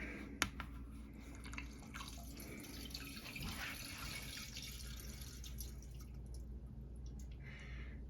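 Cream ale beer transferring through tubing into a small one-gallon keg: a faint, steady trickle and dripping of liquid with a few soft splashes, continuous throughout with no talking.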